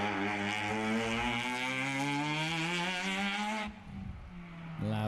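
A rotary-engined race car at a tire-sponsored racing round screams past close by with a loud, buzzing, harmonic engine note that climbs in pitch, then cuts off abruptly before a brief revving burst.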